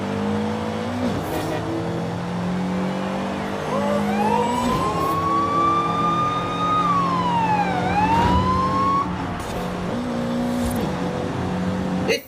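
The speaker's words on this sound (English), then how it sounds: "It's the ambulance coming." Ambulance siren in the video game Forza Horizon 5, a rising and falling wail that sweeps up and down across the middle of the clip over steady engine and road drone.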